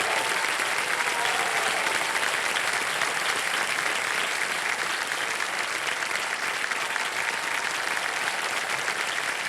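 Loud, sustained audience applause fills a TV quiz show studio for Rishab Shetty, a dense, steady wash of many hands clapping without a break.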